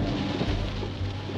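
Heavy rain pours down on a mountain road in Greece, a dense, steady roar of downpour with a low rumbling undertone, continuous and close with no voices.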